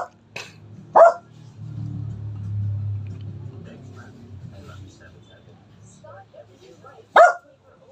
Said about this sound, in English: Panda is barking.